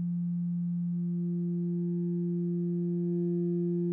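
A steady synthesizer sine wave tone from a harmonic mixer module, a single clean sustained pitch holding level throughout with faint upper overtones and no other sounds.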